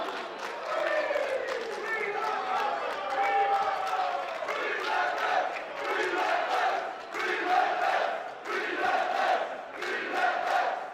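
Crowd at a Relentless Wrestling event roaring for the fighters during a match, a loud, sustained wall of cheering and shouting that swells in waves over about eleven seconds, with an announcer's voice mixed in.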